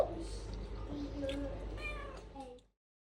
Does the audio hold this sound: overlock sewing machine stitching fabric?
no